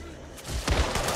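Friendly-fire gunshots in the video game Back 4 Blood, a short burst of booming shots arriving after a quiet start, close and fairly loud.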